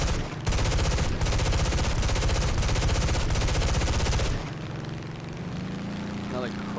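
Fifty-caliber machine guns on an F8F Bearcat fighter rattle in a video game, a loud rapid-fire burst of dense, evenly spaced shots over a droning engine, cutting off after about four seconds to leave the aircraft hum alone.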